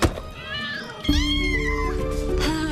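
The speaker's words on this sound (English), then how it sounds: "Hope you like cats." Several cats meow loudly and close by, with long, drawn-out cries that overlap and follow one another almost without pause after a brief opening call.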